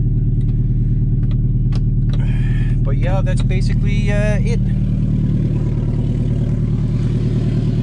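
A 1999 Toyota RAV4 all-wheel-drive SUV idles steadily and evenly beneath a voice, a constant low hum with no misses.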